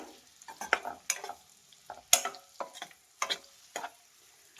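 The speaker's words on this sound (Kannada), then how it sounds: "ಪನ್ನೀರ್ ಹಾಕ್ತಾ ಇದ್ದೀನಿ. ಇದನ್ನ ಮೀಡಿಯಂ ಫ್ಲೇಮಲ್ಲಿ ಇಟ್ಟು ಫ್ರೈ ಮಾಡ್ಕೊಬೇಕು." Soaked paneer frying in melted butter over a medium flame, a soft sizzle broken by repeated close scrapes and taps of a spatula stirring the pan, with no talking.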